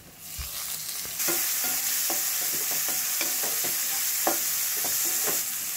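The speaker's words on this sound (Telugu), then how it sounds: "ఇలా గరిటతో బాగా తిప్పుకున్న తర్వాత మూత పెట్టి ఒక 2 నిమిషాలు ఉంచుదామండి" Tomatoes and onions fry in a pan for Andhra-style mutton curry, a steady loud sizzle under repeated scraping strokes of a ladle stirring the mixture, close and continuous.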